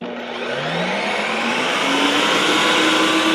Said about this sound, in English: So I'm making the canned fruit sorbet, so I just move the dial here to sorbet. And what do we do next? We just push it.